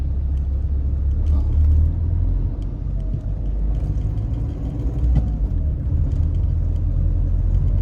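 A car on the move, heard from inside the cabin: a steady low engine rumble and road noise carry on without a break, with no one talking.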